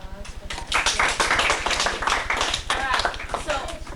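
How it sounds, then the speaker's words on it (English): Audience applause at an anti-drug walk event, a burst of dense clapping from a crowd that swells quickly and holds with uneven rhythm for a few seconds. "Should we give ourselves a little bit of applause for that?"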